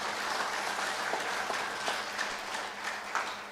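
An audience at a bank's annual meeting applauds, a continuous broadband clatter of many hands, fairly distant and even, with a few slightly louder claps standing out.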